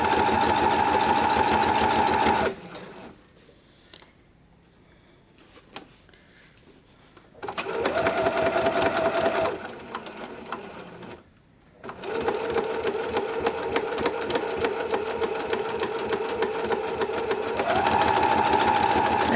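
A sewing machine stitches a fabric seam on a placemat in three bursts of rapid, even whirring, separated by quiet pauses while the fabric is adjusted.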